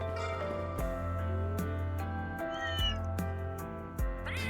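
A cat meows several times in Trails Through Daybreak II, with short repeated calls over a steady background of game music.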